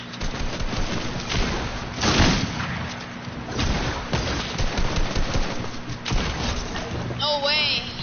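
Rapid bursts of video game gunfire crackle through a dense, noisy mix, with repeated shots and booms layered over steady background rumble, while a voice talks over the action.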